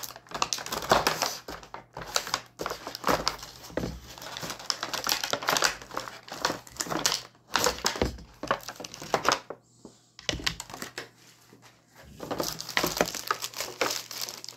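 Tape being peeled and plastic packaging crinkled while unboxing an action figure, a close, busy run of crackling rips and rustles with brief pauses between bursts.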